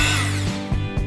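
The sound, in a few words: electric beater whipping cream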